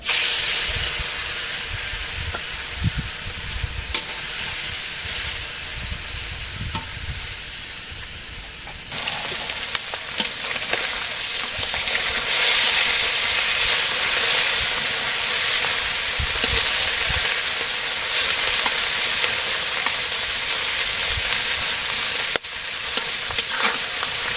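Spiced fish frying in hot oil in a wok, a steady broad sizzle that grows louder and denser partway through and holds for a long stretch, with occasional stirring knocks and no talking.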